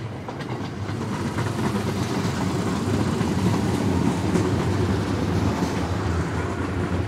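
A train running on the Oito Line through the Azumino area, a steady close rumble of wheels on rails with faint rhythmic clatter, continuous and without speech.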